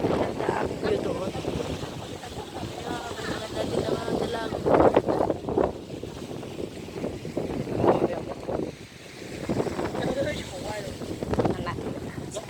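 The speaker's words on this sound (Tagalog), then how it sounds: "Mas maganda yung hagaspas ng alon." Sea waves wash against the shore at Sai Wan Ho Swimming Shed in Kennedy Town as the tide comes in, with gusty wind buffeting the microphone in surging rushes and people talking over it.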